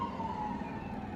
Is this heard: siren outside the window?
yes